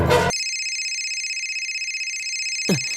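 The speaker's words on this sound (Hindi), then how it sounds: "अरे सुनना, सैम का फोन है।" An electronic phone ring tone, a steady warbling trill that starts after a brief noise burst and holds for over two seconds before a thump cuts in.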